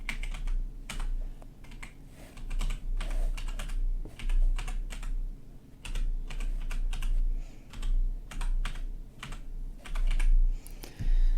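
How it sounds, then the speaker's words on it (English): Someone types on a computer keyboard, with quick clusters of sharp key clicks separated by short pauses, fairly close and clear against a quiet background. "I'm just also going to type that link in here one more time"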